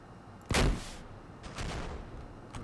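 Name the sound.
AC-130 rocket strike in Modern Warfare mod video game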